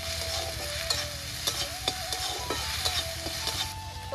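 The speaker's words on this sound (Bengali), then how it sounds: "কালো জিরে, আদা কুচি, রসুন কুচি একসাথে দিয়ে আমি ভালো করে এটা ভেজে নেব।" Nigella seeds with chopped ginger and garlic frying in a pan, a close continuous sizzle broken by a run of sharp stirring taps and scrapes.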